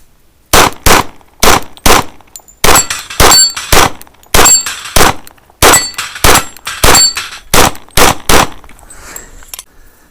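Live-fire pistol shooting at targets, aimed without sights: about fifteen sharp, very loud shots in an uneven steady cadence, with faint metallic rings after some hits, close and with no talking.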